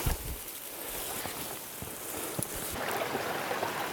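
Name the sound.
creek water flowing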